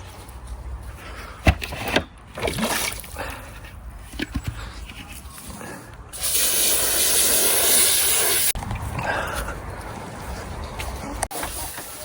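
Fresh water is poured out for animals being kept indoors out of the cold, a steady hissing gush running for a couple of seconds amid handling noises and clatter.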